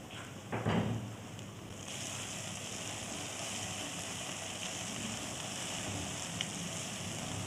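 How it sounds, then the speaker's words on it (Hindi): Red chili, cumin and masala spices frying in a pan, a steady close hissing sizzle that swells after a brief clatter near the start and holds evenly to the end. "भून लूँगी सारा मसाला।"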